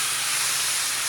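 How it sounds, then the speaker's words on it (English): Loud, steady sizzling hiss of chicken frying in a hot stir-fry pan, bright and continuous, with no voices. "You can hear it sizzle."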